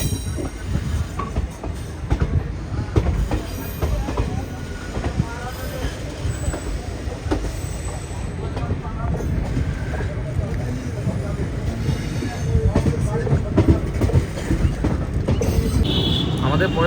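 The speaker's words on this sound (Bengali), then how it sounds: "ট্রেন ছাড়লো মালদা টাউন থেকে।" The 13432 Nabadwip Dham Express passenger train pulls out of Malda Town station, its wheels rumbling and clattering on the tracks with a continuous close, loud roar and scattered squeals and knocks.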